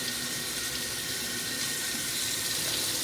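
Kitchen tap water runs steadily into a sink while something is rinsed off during steak preparation, a constant close splashing rush with no pauses and no talking.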